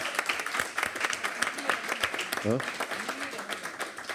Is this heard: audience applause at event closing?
yes